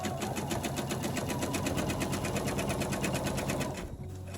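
A sewing machine stitches stretched bias binding onto a quilt in one steady, rapid, continuous run that stops just before the end.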